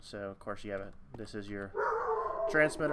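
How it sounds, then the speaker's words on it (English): A dog barks and yips in the background, several short bursts under and between a man's close, steady talking. "excuse the dog barking in the back."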